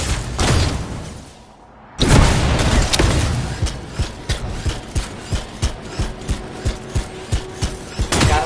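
Canisters exploding in the video game Anthem, a heavy blast after a brief lull followed by a regular series of thudding booms and impacts, loud and close.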